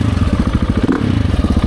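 A 700cc motorcycle engine with a full titanium exhaust, Rottweiler intake and emissions delete barks loudly and close up, a rapid pulsing rumble in the cold tundra.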